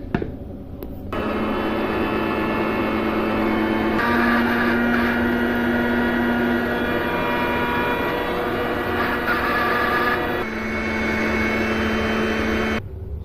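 A mixer grinder blends onion, tomato, green chili, green coriander, yogurt and ginger garlic paste in its jar, a loud steady whirring roar for about twelve seconds with slight pitch shifts as the load changes.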